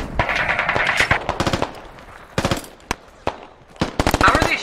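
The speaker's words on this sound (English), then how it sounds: "they're just shooting in here" Machine gun fire rattles in the video game SQUAD: loud, close, rapid bursts with brief pauses between volleys, and some sharper single shots mixed in.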